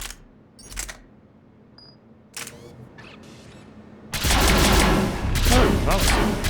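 ADAS anti-synthetic rifle in Mass Effect 3 fires in a few sharp isolated cracks, then erupts into a loud sustained burst of dense, roaring gunfire that continues to the end.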